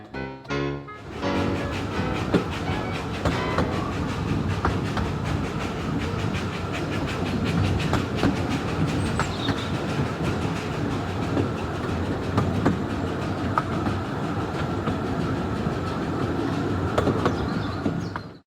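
Steady rumble of a train riding along the rails, heard from inside a carriage, with rhythmic clicks of the wheels over track joints throughout.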